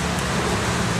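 Steady rain falls outside during a casual meal of Lamongan-style pecel lele, a dense, even hiss of drops filling the short stretch with no voices over it.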